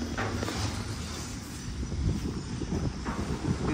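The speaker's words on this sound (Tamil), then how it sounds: "நல்லா காற்றடிக்குது" Wind gusting across an open road-view balcony on a new villa near Akkarai on ECR, a rumbling buffeting of the microphone that swells and eases in waves, with no voices.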